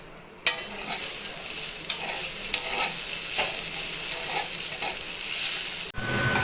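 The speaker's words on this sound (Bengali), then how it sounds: "কই মাছের ঝাল হচ্ছে, এই দেখো।" Koi fish curry cooked with onions sizzles in a pan while a spoon stirs and scrapes it in several distinct strokes, the frying hiss continuous and close, with no talking.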